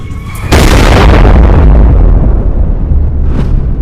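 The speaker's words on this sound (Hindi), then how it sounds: "जब ये एस्टेरॉइड धरती पर टकराता है तो एक बड़ा गड्ढा बन जाता है" A massive asteroid slamming into Earth at 30 kilometres per second: a sudden deep boom erupts after a short quiet lead-in, then rolls on as a long, loud rumbling roar that slowly thins out, with a faint whoosh near the end.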